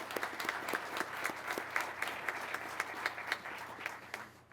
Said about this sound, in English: So let's give a round of applause to those folks.